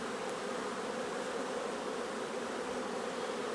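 Honeybees hum in a dense, steady buzz, close and unbroken, as they are moved from a nucleus box into a hive body.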